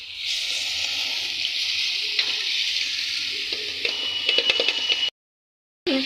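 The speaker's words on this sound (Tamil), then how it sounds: "அந்த ரத்தத்தையும் அதில் ஊற்றிக்கலாம்." Blood pours into a pan on a low flame, a steady sizzling hiss with a few clatters and scrapes that cuts off abruptly into brief silence before resuming.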